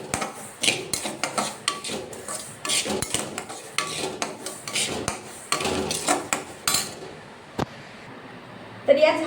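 Mixed seeds including fine chia seeds are dry-roasted in a pan over a low gas flame, with close, repeated scraping and stirring clatter against the pan throughout.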